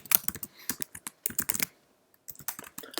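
Typing on a Mac computer keyboard while writing an email, with quick irregular bursts of crisp key clicks separated by short pauses, close and clear with no talking.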